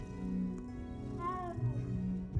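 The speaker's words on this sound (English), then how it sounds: "Aw, it's meowing." Cat meowing in the video game Hogwarts Legacy, a few soft plaintive mews and a rising meow, close and clear over a low background hum.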